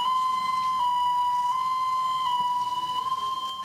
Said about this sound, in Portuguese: Ele liga a sirene e sai com o carro.